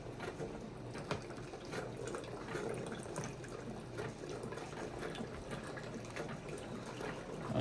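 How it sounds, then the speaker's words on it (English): A Keurig coffee maker heats and fills water while powered from a Cummins 5000W inverter, giving a faint, continuous hissing gurgle with a steady mechanical whir and small clicks throughout. "we're gonna start the Keurig"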